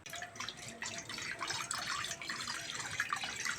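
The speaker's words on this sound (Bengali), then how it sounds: "প্রথমে কড়ার মধ্যে জল দিয়ে দেবো।" Water pours steadily into a wok for making rice flour dough for bhapa puli pitha, a continuous close splashing stream with no talking.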